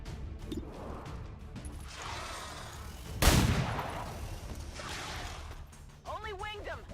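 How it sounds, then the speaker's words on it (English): A single sharp pistol shot aimed at a Viper in XCOM 2 cracks out amid ambient game sound and talk, followed by a trailing whoosh and a brief warbling creature cry. "Let's see if we can kill the Viper with the pistol."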